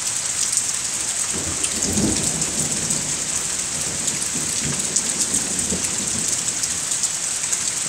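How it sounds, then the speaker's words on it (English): A cold thunderstorm with rain pouring steadily over everything while a low rumble of thunder rolls through around the middle, distant and deep beneath the constant hiss of rainfall. "I hope this is picking up that thunder."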